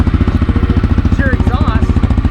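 A vehicle's engine idles with a steady, rapid exhaust pulse close by. The loud, even throb runs the whole time, with a few brief higher chirps over it.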